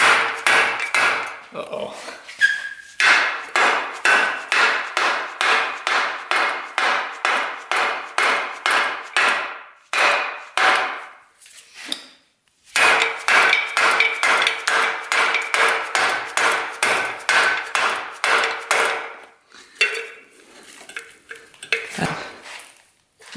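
A mallet taps repeatedly on a Harley-Davidson engine, a long run of loud, evenly spaced metallic knocks in rapid rhythm, broken by a few short pauses, with a brief spoken exclamation near the start.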